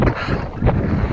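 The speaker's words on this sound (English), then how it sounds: "and it's hitting me right now, the wind." Strong wind buffets a cyclist's microphone while riding on exposed roads of the Lincolnshire Wolds, a loud, continuous low roar with gusty surges over about a second.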